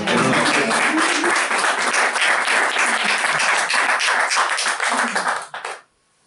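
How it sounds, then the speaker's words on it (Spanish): An audience at a book presentation breaks into loud, dense applause that holds steady for about five seconds, then fades quickly and cuts off into near silence. "Un aplauso para él."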